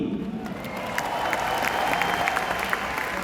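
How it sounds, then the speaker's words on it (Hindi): Audience applause at an RCM anniversary gathering in Delhi, a steady spread of clapping from a sizeable indoor crowd that swells after the first second and holds, with no talk over it. "इस बात के लिए इतनी सी तालियां बहुत कम मानी जाएगी"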